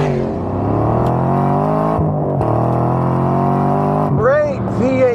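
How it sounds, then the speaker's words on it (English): A Chevrolet Camaro Z28 with a 427-cubic-inch V8 drones loudly and steadily nearby, its pitch shifting in a late rev change, with a voice talking over it. "Great V8 noises, so American."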